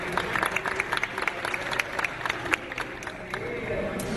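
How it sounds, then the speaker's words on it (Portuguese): A crowd at a community connectivity event in Rio claps for a guest named Dinho as he comes forward: scattered, moderately loud applause with some sharper individual claps and a faint murmur of voices throughout. "Palmas para o Dinho também, gente."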